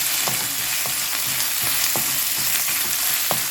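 Onions sautéing in a pan for mutton curry, a constant close sizzle broken by regular scraping stirs about every half second, with no voices.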